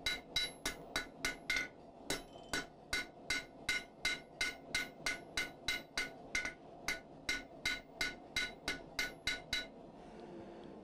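A blacksmith draws out a taper on an anvil, landing around thirty crisp, ringing hammer blows in a quick, steady rhythm, close and loud, before the strikes stop and a quieter stretch follows.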